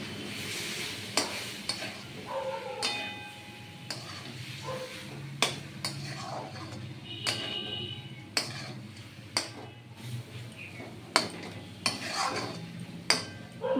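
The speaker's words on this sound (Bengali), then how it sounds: "এইবার আমি দিয়ে দেবো এর মধ্যে এই যে টমেটো পেস্ট, এটা দিয়ে কষানো হবে।" Tomato paste stirred into a little oil in a pan for a Bengali cauliflower roast, with a soft, steady sizzle broken by repeated sharp clinks and scrapes of a spoon against the pan.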